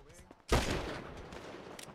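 Gunfire bursts in a competitive shooter video game tournament match, a loud sharp burst opening mid-clip and decaying into sustained rattling shots, with faint voices before it.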